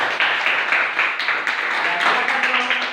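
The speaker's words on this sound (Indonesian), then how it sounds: "Ya, tepuk tangan." A classroom group of students claps in steady, fairly close applause with quick irregular hand claps throughout, and a voice briefly joins partway through.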